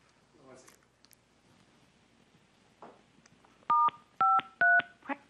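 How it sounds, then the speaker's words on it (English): Telephone keypad dialing tones used to open a conference phone line: a quick series of loud, distinct touch-tone beeps, preceded by faint talk and room noise. "We need to open the phone line before I go there."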